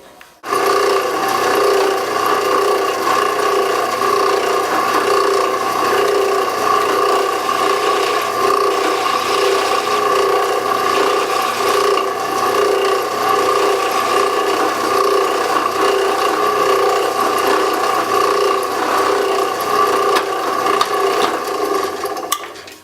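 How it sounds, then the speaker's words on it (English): A countersink drill bit grinds steadily into a hole in metal to seat a TimeCert thread insert, a loud continuous rasping whir that holds for about twenty seconds before cutting off. "it countersinks the hole so that the insert will be flush with the top of the surface"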